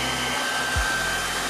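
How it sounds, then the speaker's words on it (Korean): Hair dryer blowing steadily up close while heating an iPhone 7 to soften the adhesive holding its battery, a continuous loud whooshing hum with a brief low thump partway through. "인터넷을 좀 찾아보니까 드라이기로 좀 데워주면 된다고 해서"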